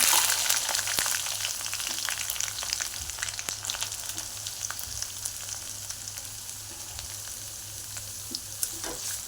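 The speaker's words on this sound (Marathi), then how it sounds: "हे बघा तेल गरम झालेलं आहे त्यात कढीपत्ता सोडायचा कांदा" Curry leaves and chopped onion frying in hot oil for a chicken liver fry, a steady close sizzle with crackling pops throughout, no voices.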